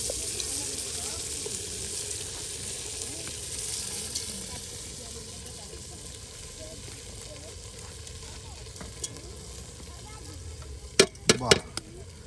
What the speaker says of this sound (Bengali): দেখুন একদম কত সুন্দর করে সেই কষানো মজানো মশলায় চাউলগুলো দিয়ে দেওয়া হচ্ছে।